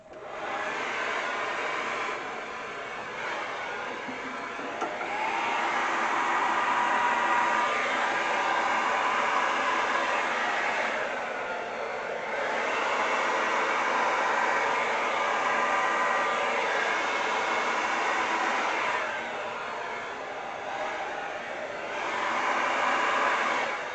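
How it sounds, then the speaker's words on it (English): A hair dryer blows air across a paint-pour canvas in a Dutch pour painting session, a loud steady whooshing roar that dips and surges as it moves, with brief pauses around 2 and 11 seconds and no talk. "Down, grab my hairdryer."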